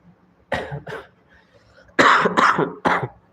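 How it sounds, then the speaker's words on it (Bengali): A person with a cold and fever coughing several times, a couple of short coughs followed by a harsher cluster of three, close up with quiet pauses between them. "সর্দি জ্বর আছে তাই একটু কাশি হচ্ছে"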